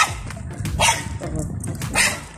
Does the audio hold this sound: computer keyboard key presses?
no